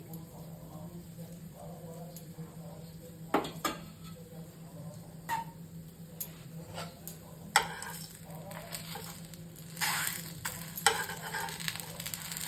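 Patishapta pitha batter made from ground Gobindobhog rice and a little flour fries quietly in a pan with a soft steady sizzle, punctuated by light taps and scrapes of a utensil against the pan.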